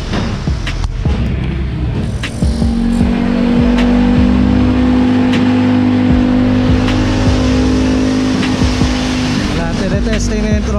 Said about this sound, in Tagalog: tine-testing na yung throttle niya